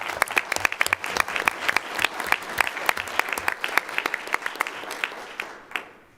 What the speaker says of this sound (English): Can we have them stand up and give them a round of applause?